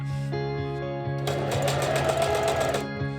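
A sewing machine zigzag-stitching elastic onto one short side of spongy fabric for an ultralight backpack pocket; rapid even needle clatter runs for about a second and a half, framed by quieter motor hum at the start and end.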